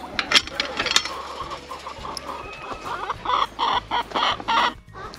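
Chickens clucking in a backyard chicken village with three coops, several birds making short repeated clucks and squawks close by over a low steady hum.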